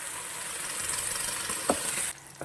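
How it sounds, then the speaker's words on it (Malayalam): Ground masala paste frying with tomatoes in a pan for prawn curry gives a steady, close hiss of sizzling oil, broken by a couple of sharp spoon scrapes near the end. "ഇനി ഈ മസാല ഒന്ന് ഫ്രൈ ആയിട്ട് ഇതിൻ്റെ പച്ചമണം ഒന്ന് പോകണം"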